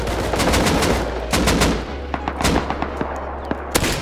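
Gunfire in the Rust survival game: rapid bursts of loud rifle shots crack in quick succession, then sparser single shots and short volleys follow, with distant pops under a low rumble.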